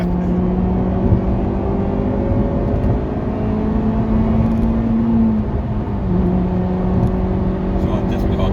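A Honda Civic FN2 Type-R or Mini R56 JCW hot hatchback hums loudly from inside the cabin while driving, engine tones rising and shifting steadily as it revs, with road noise underneath.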